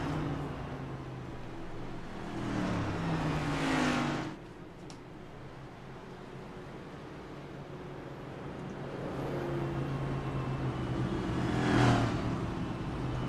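NASCAR race cars at Bristol Motor Speedway in a racing video game roll down pit road, engines droning and swelling as they pass, with moderate, steady motor hum between louder sweeps.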